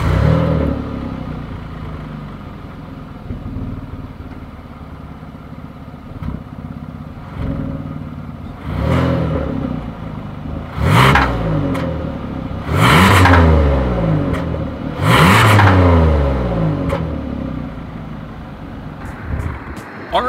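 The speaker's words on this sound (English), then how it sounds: "As always, here is that exhaust clip." A 2020 Kia Telluride SUV idles with a low rumbling exhaust, then revs sharply three times, each rev rising and falling, loud and close.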